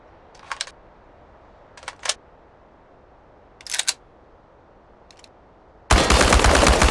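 Gunfire at robots in the video game Chernobylite: four short separated bursts of shots, then a sudden loud, dense stretch of sustained fire over the final second.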